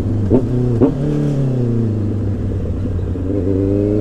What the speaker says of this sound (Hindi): क्लच यूज़ करके ब्लिप करना है गेयर डाउन करके क्लच छोड़ना